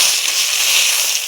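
White cumin seeds hit hot oil in a short, dense burst of bright crackling sizzle, loud and close, lasting barely over a second.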